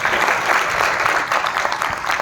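An audience at a Milifestyle stage event applauds in a dense, steady patter of many hands clapping at close range, with no talk over it.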